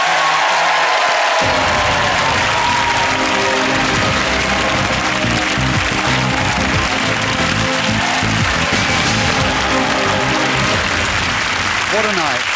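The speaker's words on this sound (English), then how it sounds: "Come on, give him a cheer" Studio audience at a 2010 National Lottery game show, In It To Win It, cheering and applauding in a dense, steady wash of claps and whoops that fills the room, with a host's voice heard briefly over it.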